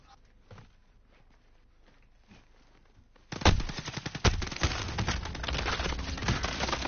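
Gunfire in Call of Duty Warzone. It is quiet at first with faint distant shots, then loud rapid automatic bursts and single sharp cracks break in and continue to the end.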